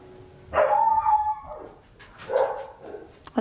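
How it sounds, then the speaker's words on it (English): A pet dog at home gives two drawn-out, whining bark-like calls, the first long and wavering and the second shorter a second later, fairly close and alone without talk. "That's my dog."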